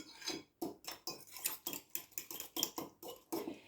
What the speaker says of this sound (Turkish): Şöyle sütle beraber bir tur daha karıştırıyorum.